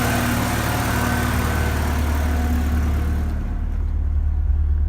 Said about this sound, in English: you can hear that it's definitely a lower idle now